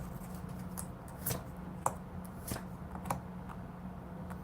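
Tarot cards being shuffled by hand, a soft, close, irregular patter of riffling and slapping card sounds with a few sharper snaps, quiet and without talk.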